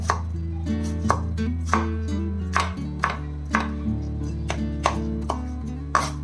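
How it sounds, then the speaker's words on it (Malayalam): A knife chops cucumber into small pieces on a board, with close, crisp strikes in a steady rhythm over a background of music. "എല്ലാം കൂടെ ഇങ്ങനെ ഒന്നിച്ച് വെച്ചിട്ട് നമ്മൾ സാധാരണ തോരനൊക്കെ കട്ട് ചെയ്യുമല്ലോ അതുപോലെ തന്നെ ചെറിയ ചെറിയ പീസസ് ആയിട്ട്"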